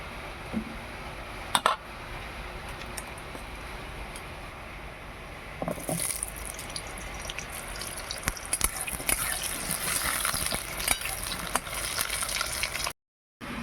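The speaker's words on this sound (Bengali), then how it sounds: "কড়াইয়ে তেল দিয়ে দিচ্ছি প্রথমে আলুগুলো ভেজে নেব" Oil hisses and sizzles steadily with scattered crackles and pops as potatoes fry in a wok, growing louder and busier partway through.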